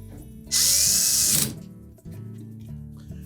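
Power drill driving a screw into a bracket on a Whirlpool washer panel, one loud steady whir of about a second with rising pitch as it spins, standing alone against quiet workshop background.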